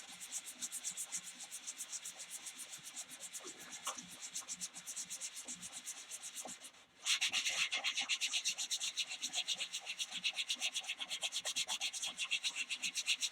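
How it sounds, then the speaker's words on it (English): A wood turning is sanded on a spinning lathe, giving a steady, close, pulsing rub and scratch that briefly dips and returns stronger, with no voices. "we're going to put more time into sanding and finishing than we are into actually carving the thing"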